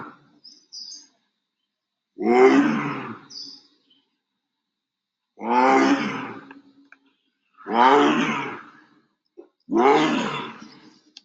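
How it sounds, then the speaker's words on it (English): An adult male tiger roars four times in long, deep, harmonic bursts spaced a few seconds apart, loud and close, with brief quieter growls between them and no talk. "an adult male tiger sounds like when he is growling and announcing to the world that he owns the land that he walks on"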